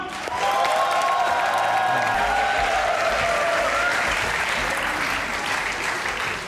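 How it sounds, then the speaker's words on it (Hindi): Sustained applause from a large studio audience at a comedy talk show, loud and steady throughout, with some crowd noise mixed in. "और दिन आपकी भरपूर तालियों में ज़र्निश खान।"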